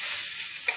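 Salted, mashed banana stem frying in a pan sizzles softly and steadily, with one brief, sharper spatter near the end and no voices.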